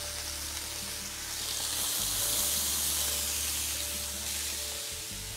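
Chopped onion sautéing in a pot, a steady close sizzle and hiss of frying that swells slightly midway and continues alone without talk.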